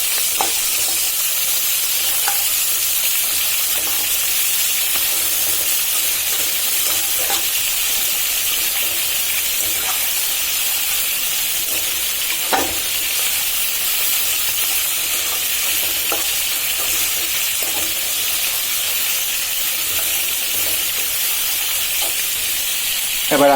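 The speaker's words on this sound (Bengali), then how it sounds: "এদিকে আমার এক চুলায় বাকি 3 পিস পোয়া মাছ ভাজা হচ্ছে। আরেক চুলায় আমি পেঁয়াজ, রসুন, কাঁচামরিচ তেলে দিয়ে দিচ্ছি।" Poa fish pieces fry on one burner while onion, garlic and green chili hit oil on another, producing a constant loud sizzle with occasional utensil clicks and taps.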